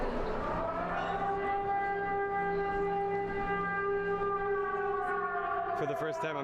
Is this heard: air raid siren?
yes